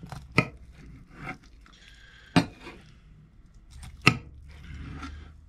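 Knife strikes a plate while cutting grilled vegetables from a barbecue aboard a narrowboat, three sharp clinks spaced apart over light scraping and quiet background sounds.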